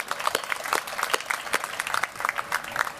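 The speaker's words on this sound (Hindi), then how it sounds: "इसके लिए ताली बजाओ." An audience at a company meeting clapping after a profit announcement, a loose, moderately loud patter of hands with distinct individual claps rising and falling over a few seconds.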